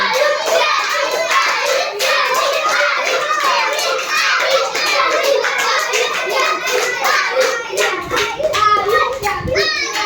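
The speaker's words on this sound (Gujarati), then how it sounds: "તાળીઓ ચાલુ રાખો ભાઈ તાળીયા બંધ નહીં હોની ચાહીએ" Children clap rapidly and continuously during a one-minute classroom maths game, loud and close, mixed with excited kids' chatter and shouts throughout.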